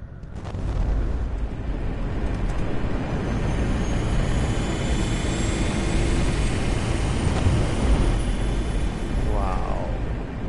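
A spacecraft lifts off in the VR game Red Matter 2 with a steady, loud engine roar that swells slightly toward the end, along with a faint whining sweep.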